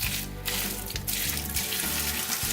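Hot water poured slowly from a kettle over sliced red onions for pickling, a steady splashing stream that runs continuously and fairly close.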